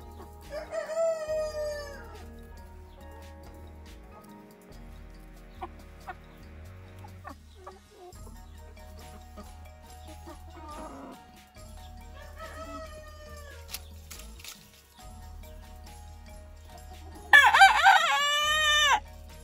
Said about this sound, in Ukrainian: Це півник араукана.